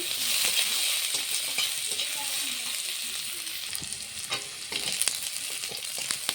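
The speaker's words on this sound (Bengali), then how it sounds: "এখানে কটা গোটা রসুন দিয়েছি, পেঁয়াজের সঙ্গে ভেজে নেব" Whole garlic cloves fry with onions in hot oil for an egg curry, producing a steady, dense sizzle with a few sharp crackles and pops throughout.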